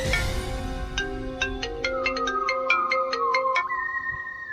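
A mobile phone ringtone plays a bright, quick melodic run of about a dozen plinking notes, moderately loud and alone, then settles into a sustained tone.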